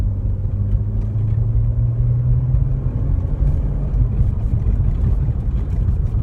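Fiat Argo Trekking 1.8 automatic under full throttle, a steady low engine drone heard from inside the cabin, loud and continuous with a slight rise in pitch, no voices over it.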